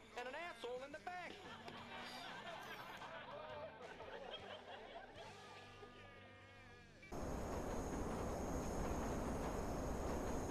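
A train pulls into a station in the video game Watch Dogs, bringing a loud, steady broadband rumble for the last few seconds, after a stretch of a person talking and laughing over game sounds.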